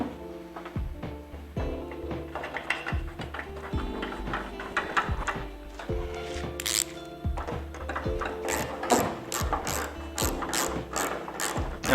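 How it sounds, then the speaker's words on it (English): A hand ratchet starting bolts during a quarter panel replacement on a 442, rapid metallic clicking in repeated bursts with clunks in between, steady and close, ending in a fast regular run of clicks. "Now we're just getting these bolts started."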